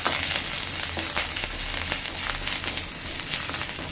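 Curry leaves and two green chillies fry in hot oil, a dense, continuous crackling sizzle with small pops, close and steady throughout.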